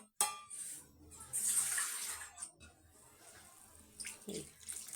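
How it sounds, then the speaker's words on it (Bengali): Water poured into a pan of egg and potato curry, a splashing pour in short bursts with quieter gaps and a faint clatter of the pan, heard close. "পানি দিয়ে দিলাম, খুব বেশি পানি দিব না"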